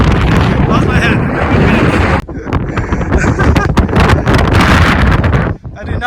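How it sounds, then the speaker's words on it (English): Strong wind buffets the microphone at a desert hiking trail among rock pinnacles, a loud continuous rumbling roar with brief dips, filling the whole stretch. "I did not expect it to be this windy."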